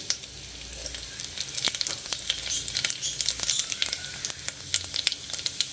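Cumin seeds with chopped ginger and garlic sizzle in hot oil for a pulao, a steady close-up frying hiss scattered with sharp crackles and pops, with no talking.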